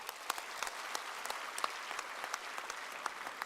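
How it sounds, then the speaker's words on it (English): Delegates at the closing function of a congress give sustained applause, a dense crowd of clapping hands with a few sharper claps standing out, steady and moderately distant in a large hall. "please respond with big applause if it is so"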